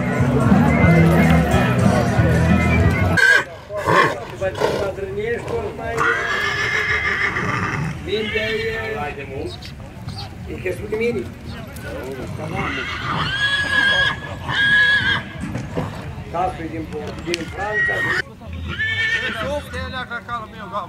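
Horses neigh and whinny repeatedly at an outdoor horse fair in Horodnic de Sus, Bucovina, with hoof clip-clop and a busy crowd murmuring close around them.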